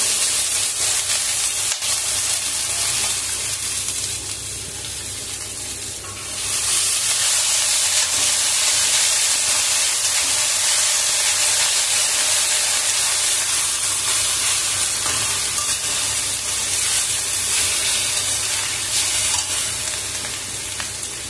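Susni saak greens tipped into a hot pan for an aloo dish burst into a loud, steady sizzle that jumps up after a quieter stretch of frying and holds strong, with no talking.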